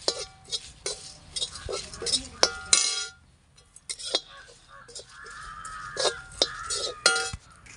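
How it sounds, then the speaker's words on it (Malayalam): Black pepper is stirred through coconut roasting in a hot pan for chicken curry, giving scattered clinks and scrapes of utensil on cookware with short pauses and a brief quiet gap. "കുരുമുളക് ഇട്ട് ഇന്നൊന്ന് ഇളക്കി കേട്ടോ"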